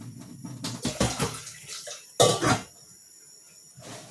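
Water from a kitchen tap splashes and gushes into a pan being rinsed after cooking rice, arriving in a couple of loud bursts with clattering, then dropping to a quiet trickle.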